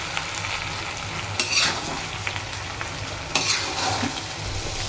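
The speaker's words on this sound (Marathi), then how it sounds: "व्यवस्थितपणे हलवून घ्यायचं." Masala rice being stirred in a hot frying pan, a steady close sizzle with scraping strokes of the spoon, two louder scrapes standing out, no voices.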